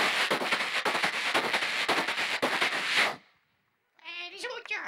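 A human voice imitates a Frecciarossa high-speed train rushing through a station: a loud, dense, hissing roar with rapid crackling for about three seconds cuts off abruptly, followed by silence and then a short vocal sound.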